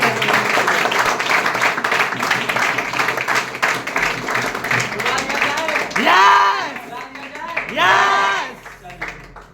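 An audience at a company event claps in a dense, sustained round of applause welcoming a speaker to the stage, mixed with crowd noise, and it tapers off near the end.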